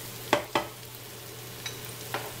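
Onions sautéing in a pan, a low steady sizzle with a few quick stirring clacks of a utensil against the pan, close and fairly quiet, no talking.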